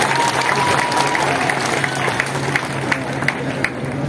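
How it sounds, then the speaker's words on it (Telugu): Crowd applause at a party workers' welfare gathering in Nellore City, loud and continuous, dense clapping from a large group close by with a few sharper claps standing out near the end. "మీ అందరూ ఒకసారి గట్టిగా మీకు చప్పట్లు కొట్టుకుంటారా?"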